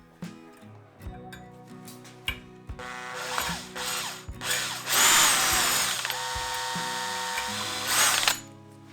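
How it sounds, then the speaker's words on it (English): A power drill enlarges a small drilled hole by a tenth of a millimetre in a scratch-built lantern part for a garden railway, with short whirring bursts, ratcheting clicks and a sustained, loud grinding run near the end. "now it's actually too small, so I need to drill a little bit bigger"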